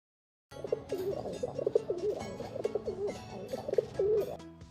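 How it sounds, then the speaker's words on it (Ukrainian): A pigeon coos repeatedly in soft, throaty rolling calls, steady and close, with low background noise and no talking. "Давайте послухаємо, як він воркує."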